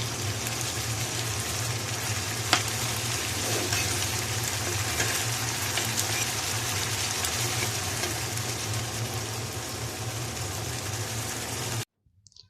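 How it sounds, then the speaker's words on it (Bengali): Small fish chorchori being stirred in a frying pan, a continuous sizzle and bubbling with a low steady hum, one sharp scrape of the utensil, running alone until an abrupt cutoff near the end. "হালকা একটু নেড়ে চেড়ে তুলে নেব"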